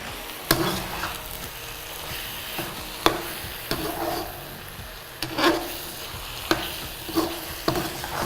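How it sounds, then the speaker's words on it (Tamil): Mushrooms being stirred in a frying pan for a mushroom gravy: a soft steady fry under repeated scraping strokes of a spoon against the pan, roughly one sharp scrape every second or so, close and moderately loud, no talking. "மஷ்ரூம் போட்டு நல்லா மிக்ஸ் பண்ணி விடுங்க."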